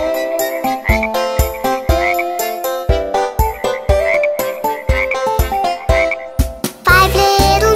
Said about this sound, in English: let's go to the pond to watch some speckled frogs